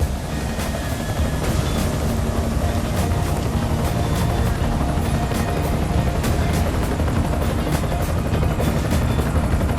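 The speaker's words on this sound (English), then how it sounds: "Enemy helo sighted." An enemy helicopter in the video game Deus Ex: Mankind Divided gives a steady, loud rotor roar with rapid chopping that holds for the whole stretch, with no talk over it.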